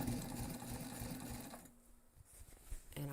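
A sewing machine bastes through several layers of a backpack strap in a rapid, close mechanical stitching rattle. The stitching stops briefly partway through, then starts again.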